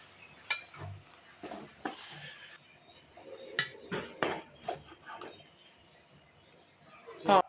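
Brain fry is scooped from the pan into a serving bowl, with a series of sharp clinks and scrapes of a spoon against metal and ceramic, close and intermittent, separated by quiet gaps.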